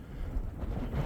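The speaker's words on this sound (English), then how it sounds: "I don't know if you can tell or you can hear the wind" Cold, strong wind blows outdoors near snowy mountains, a low rumbling buffet of gusts against the microphone, steady and fairly loud across the short moment.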